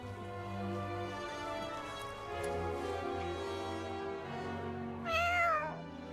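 A cat meowing in the video game Duet Night Abyss, one clear, rising and falling meow near the end over steady game music and ambient tones.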